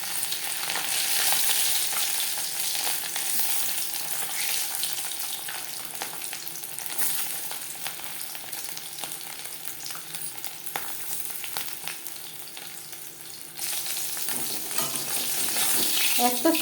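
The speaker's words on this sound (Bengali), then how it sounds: "মাছ ভাজবার জন্য কড়াইতে 5 চামচ রিফাইন্ড অয়েল গরম করে নিয়েছি।" Spice-coated fish frying in hot refined oil in a wok, a dense continuous sizzle and crackle that fills the whole stretch, loud and close, with no voices.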